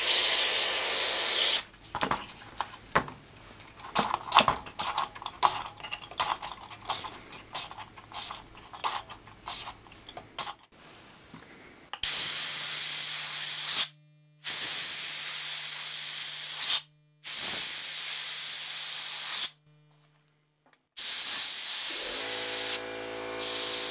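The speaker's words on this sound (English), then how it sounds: "By now I've done all of the spray cleaning and blowing out with the air line" Aerosol contact cleaner sprayed in short repeated bursts onto mixing-board fader potentiometers, then an air line blowing them out in long loud hissing blasts separated by brief pauses, close up with no talk.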